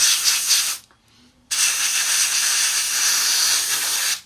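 An airbrush or spray can hisses loudly and close over parts of a 1/32 scale Trumpeter AV-8B Harrier model kit, a sustained spray that stops briefly and then resumes for several more seconds.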